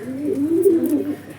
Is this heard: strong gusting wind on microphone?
no